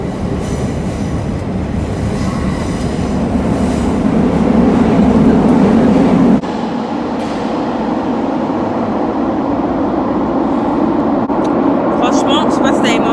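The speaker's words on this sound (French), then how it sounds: "On va à la gare de Santa Apollinea pour prendre le métro." A Lisbon metro train rumbles loudly with wheel squeal. The sound is a steady close roar that drops in level partway through, with talking mixed in.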